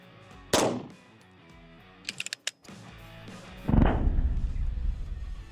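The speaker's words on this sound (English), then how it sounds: "Now, for supersonic 9mm, we're going to be using my Staccato XC." Supersonic 9mm rounds fired from a Staccato XC pistol: a sharp, loud report, a quick rattle of smaller clicks, then a second heavy booming shot with a long rumbling decay, heard alone with no talk.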